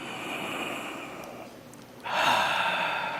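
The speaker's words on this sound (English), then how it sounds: "Just stop and take a deep breath." A person draws in one slow, deep breath and then lets it out in a long, airy exhale, close to the microphone, in a quiet meditation setting with no speech.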